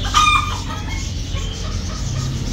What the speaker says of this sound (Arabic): هذا ب 15 ديك إسباني